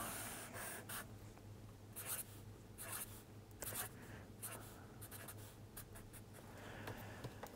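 A pen sketches wiring onto paper, producing a run of soft, close scratchy strokes in short bursts with brief pauses, quiet and alone over a faint steady hum.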